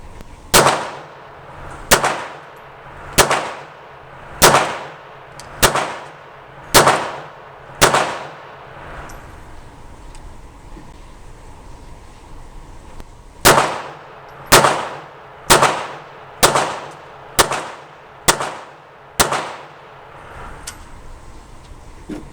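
A Walther PPK/S pistol firing hollow point rounds, loud close sharp shots in two strings, about seven evenly spaced then a pause and about nine more, each with a short ringing decay.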